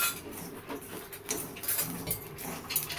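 Chickpeas being stirred in hot salt in a pan, a steady gritty scraping and rattling with repeated swishes and clinks of grains against the metal, close and moderately quiet.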